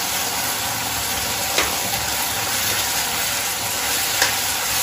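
Ketchup and chilli sauce get stirred into chilli paneer in a pan, making a dense, continuous sizzle with a few faint scrapes, close and steady with no speech.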